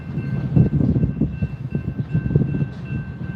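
A GP38 diesel locomotive reversing while switching cars on Canadian National tracks in Pembine, Wisconsin, giving a steady low rumble with rhythmic clanks and a faint high whine, fairly near and without talk.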